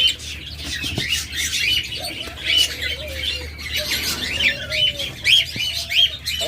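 A pair of lovebirds chirps and squawks close by in rapid, overlapping calls, with occasional rustles and light knocks in the background.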